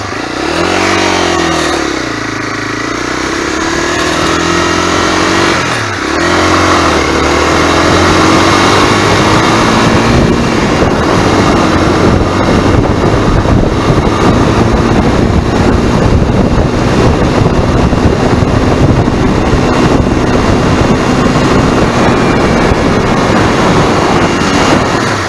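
A Honda NX250 motorcycle engine revs and then holds at high RPM under loud, buffeting wind noise. The pitch sweeps up and down early on and then settles into a dense, sustained drone while riding.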